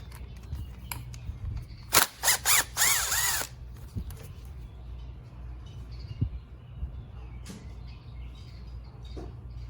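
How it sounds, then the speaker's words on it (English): A power tool drives out the small bolts on a Mercedes M112/M113 engine's PCV cover, several short, loud whirring bursts clustered together, then a quieter workshop background with faint clicks. "Now I'm going to go ahead and start with this PCV cover and take out these small bolts first."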